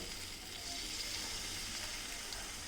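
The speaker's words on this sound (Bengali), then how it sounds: "এবার দিয়ে দেবে পরিমাণ মতো জল।" Water poured into a pan of fried spiced fish masala being cooked for a kuchia (eel) fish curry, giving a steady close hiss and sizzle of liquid hitting hot oil and spices, continuous and fairly loud throughout.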